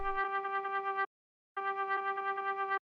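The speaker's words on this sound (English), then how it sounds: "it's just like this Mellotron flute" A Mellotron flute one-shot sample plays two sustained notes, each about a second long with a gentle breathy vibrato, separated by a short gap and heard on its own.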